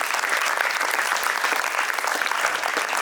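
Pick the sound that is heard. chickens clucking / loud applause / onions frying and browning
loud applause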